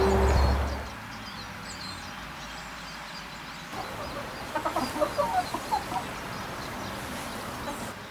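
Bielefelder Kennhuhn hens cluck in a short run of rhythmic bursts at moderate distance, following a brief loud knock at the start, with outdoor background noise and no talking.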